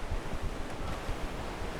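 Wind and ocean waves at sea in the video game Assassin's Creed 4, a steady broadband rush of surf and gusting air, continuous and moderately loud, with no voices.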